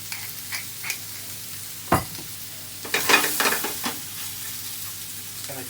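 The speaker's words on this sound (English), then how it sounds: "You can see it all nice sizzling." Sirloin steak, mushrooms and onions sizzle steadily in a hot pan, with a few sharper pops and scrapes as the food is moved around; no talking.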